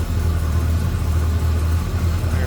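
A 1970 Chevrolet El Camino's 454 V8 idles up close with a deep, even rumble and steady low throb, loud and unbroken throughout.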